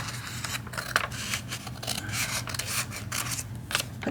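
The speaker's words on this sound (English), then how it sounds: "We are going to cut out this template, put it on our foam, and trace it." Scissors snip out a paper template at close range, a run of quick crisp cuts and rustling paper in an uneven rhythm, with no talking.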